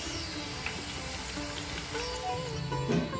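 Snack batter frying in hot oil with a steady, soft sizzle and small crackles as the foam settles, close and continuous with no voices.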